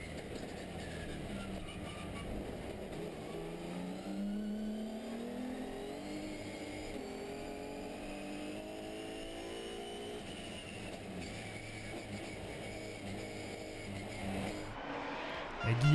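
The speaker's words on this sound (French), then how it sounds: "Le départ en caméra embarquée à bord de la Peugeot 307 de Patrick Guilherme qui passe le premier virage sans encombre" A Peugeot 307 rallycross car races at Lohéac during the 2012 French rallycross season, heard from onboard at the start, its engine revving and climbing through gears with a rough, steady roar at moderate volume.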